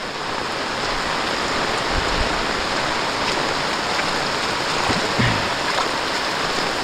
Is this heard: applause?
no